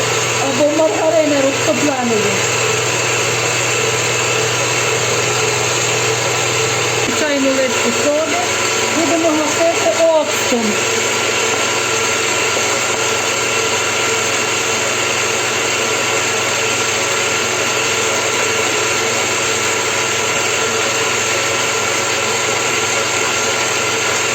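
An electric mixer drones steadily and loudly as it whips batter for soft cupcakes made with condensed milk. A voice speaks briefly over the motor's whine in a few places.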